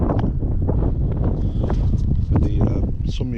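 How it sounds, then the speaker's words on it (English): Wind buffeting a microphone outdoors at a landmine clearance site in Ukraine, a loud low rumbling roar with gusty fluctuations, and a voice partly audible beneath it. "It's a bit windy out here"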